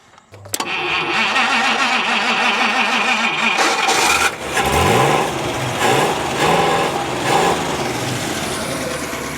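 A chopped 1950 Buick engine cranks and catches, then idles rough and uneven with a lumpy, surging rhythm, loud and close, running alone without talk.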